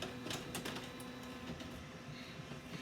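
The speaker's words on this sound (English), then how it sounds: "I've got the printer going now for no reason." A printer running, a faint, continuous mechanical whir with rapid clicking and rattling pulses throughout, heard on its own.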